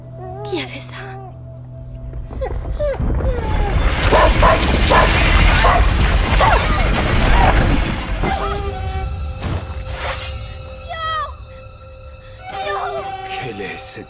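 In the video game A Plague Tale: Innocence, a dog named Lion yelps and whimpers amid a loud burst of scuffling commotion, followed by short high whines and cries, with people speaking alongside.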